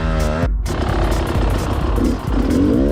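Enduro motorcycle slowly climbing a steep hill, engine droning steadily with the clutch slipping to avoid wheel spin, revs rising and dipping with a brief momentary cutout early on, close and loud throughout.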